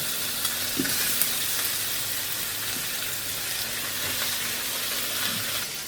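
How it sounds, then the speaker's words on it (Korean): Bacon stir-frying in olive oil in a pan gives a steady, close sizzle with the crackle of stirring, and it carries on unbroken with no one speaking. "올리브 오일을 넣고 볶아주다가 베이컨"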